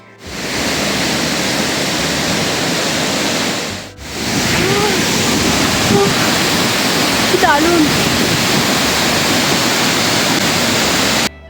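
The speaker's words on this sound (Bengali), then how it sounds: "জলের আওয়াজটা শুনেই আশা করছি বুঝতে পারছো জলের স্রোতটা কতটা ছিল" Kanchenjunga Waterfall in Pelling, Sikkim, gives a loud, steady roar of rushing water that fills the whole scene close up, briefly dropping out once before surging back just as strong.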